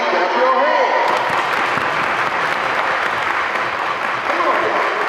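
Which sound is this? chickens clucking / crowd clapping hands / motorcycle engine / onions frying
crowd clapping hands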